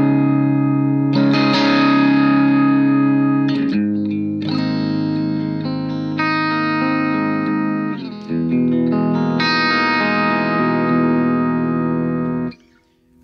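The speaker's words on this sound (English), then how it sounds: "with practice amps, when they're well designed, they give you that really nice cranked amp sound at a super low compact volume." Electric guitar played through a Positive Grid Spark practice amp with cranked distortion: loud, sustained overdriven chords and held notes in several phrases, separated by brief breaks, ending with a sharp cutoff and no talking.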